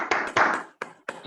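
Applause from a small group for a woman named Sujatha at a meditation gathering, in short bursts of clapping with brief gaps between them.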